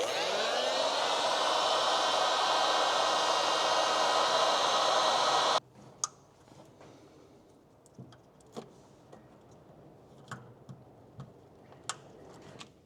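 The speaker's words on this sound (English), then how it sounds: "we're using a heat gun because this actually shrinks down" A heat gun blows with a steady loud whooshing hiss for about five seconds while shrinking a heat-shrink solder connector on a wire, then cuts off, leaving quiet room tone with scattered small clicks and ticks.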